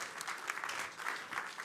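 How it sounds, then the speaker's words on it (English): A brief burst of audience applause at a startup pitching event, dense, even clapping from a crowd lasting under two seconds, moderately distant with no speech over it. "Round of applause."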